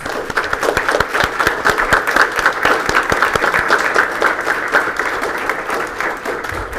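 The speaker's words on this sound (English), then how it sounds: "Let's give them a round of applause" A school board meeting audience applauds middle school award winners with loud, sustained clapping from many hands, continuous and even for several seconds before tapering slightly at the close.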